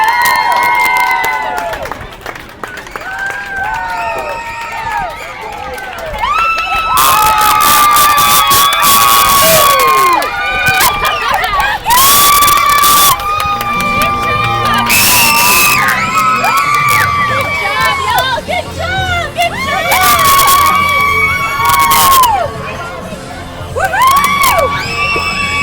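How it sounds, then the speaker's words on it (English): Young children at a 6U softball championship cheer, shriek and whoop loudly in repeated excited bursts, with high-pitched yells layered over a constant crowd din and some clapping. "As we go live to some of the crowd reaction from the Ladybugs."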